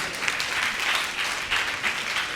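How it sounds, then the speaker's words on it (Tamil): A church congregation claps together during a service, a dense, steady burst of applause filling the room for a couple of seconds with no voices over it. "கைத்தட்டுங்க பார்க்கலாம்."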